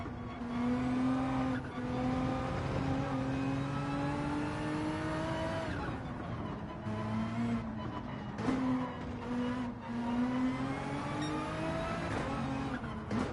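Race car engines from Gran Turismo 7 on the Nürburgring Nordschleife, including an Aston Martin, roar loudly and steadily, with rising pitch sweeps as they accelerate and brief dips between gear changes, continuous throughout.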